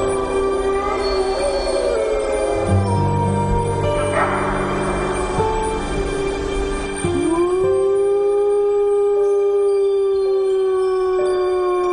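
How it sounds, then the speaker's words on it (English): Wolves howling, sustained mournful wavering cries from several animals overlapping, some rising and falling in pitch, loud and fairly close, continuing through the whole stretch with no talk. "Wolves howl at any time, day or night."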